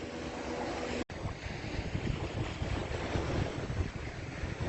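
Wind and ocean surf on a beach near Celestún, Yucatán, Mexico, a steady broadband roar that drops out for an instant near the one-second mark, then continues alone with no voices.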